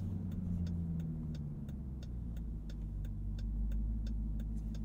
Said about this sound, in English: Turn signal sound.